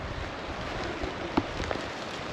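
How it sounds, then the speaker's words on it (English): Steady rain and gusting wind on an outdoor coastal walk near hazardous cliffs, a continuous broadband wash with a few sharper drop or knock sounds, fairly close and even in level, with no talking. "It's a little bit rainy and windy"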